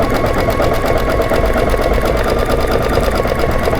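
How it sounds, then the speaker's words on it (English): An embroidery machine stitching a satin stitch, producing a loud, steady, rapid mechanical whirr and needle chatter, close and continuous without pauses. "So Tim, while this is doing this satin stitch"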